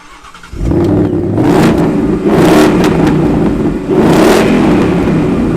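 A 2021 Ford Mustang Mach 1's active-valve performance exhaust with 4.5-inch tips revs hard several times, loud and close, each blip rising into a deep roaring bellow before settling back to a rumbling idle.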